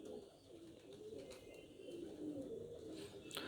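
A pigeon held in the hand gives soft low cooing calls close by, a gentle murmuring over a quiet room background with a faint clatter near the end.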